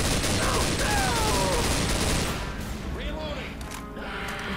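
Rapid bursts of gunfire in a Left 4 Dead 2 versus match clatter loudly through the first half, then thin out into scattered shots and clanks, with players talking over the action.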